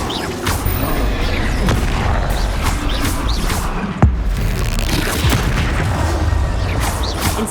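Incendio fire spell cast repeatedly in Hogwarts Legacy, loud dense bursts and booming impacts layered over continuous game combat noise, with a sharp crack near the middle.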